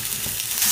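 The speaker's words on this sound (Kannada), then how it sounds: "ಒಂದು ಬಟ್ಲು ಈರುಳ್ಳಿ ಹಾಕ್ತಾ ಇದ್ದೀನಿ." Chopped onion dropped into well-heated oil for mutton pepper fry, giving a steady broadband sizzle that holds through the whole brief moment, close and even with no voice over it.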